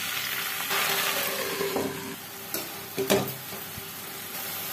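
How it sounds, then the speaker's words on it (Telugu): Gongura leaves fry in oil in a pan for mutton curry, giving a steady close sizzle and hiss with a few sharp clinks and stirring knocks near the end, no voices. "గోంగూరని ఫ్రై చేసుకున్నాం"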